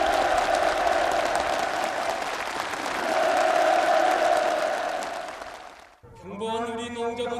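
A large crowd breaks into loud, sustained applause at a ceremony where rural housing permits are handed out. The clapping swells and then fades before a voice starts speaking at the end.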